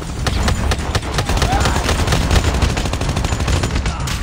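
Rapid, dense gunfire from Call of Duty Mobile rattles in loud, steady bursts with no pause, dominating the mix from start to finish.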